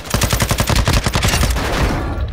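Automatic gunfire in a multiplayer duos shooter video game, a rapid burst of sharp, closely spaced shots that runs for about two seconds, loud and near, then trails off.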